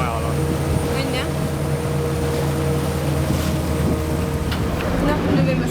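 Motorboat ride in Venice near Burano island, a constant loud engine drone and water rush filling the whole stretch with no breaks.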